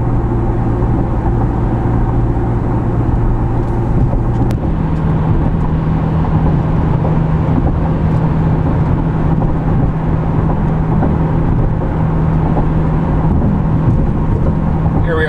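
Cabin of a 2010 Chevrolet Camaro V6 fitted with an MRT exhaust, cruising at 60 mph just over 1500 RPM; a constant low engine drone and road rumble hold steady and fairly loud throughout, with no talking.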